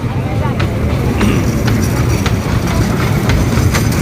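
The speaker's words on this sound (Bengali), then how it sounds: "ছোট বাচ্চাদের ড্রাগন ট্রেনে ভ্রমণ করিতেছে।" A children's dragon-themed amusement train ride rolls along with a steady rumble and rhythmic clickety-clack of wheels, close and loud, with voices chattering over the ride noise.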